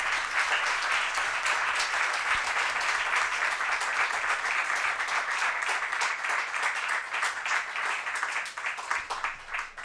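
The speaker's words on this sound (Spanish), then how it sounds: "pedir un fuerte aplauso para él por la libertad y por Portugal" Sustained audience applause at the opening of a book fair in Plasencia: dense, even clapping from a roomful of people, steady and fairly close throughout, thinning slightly toward the end, with no talk over it.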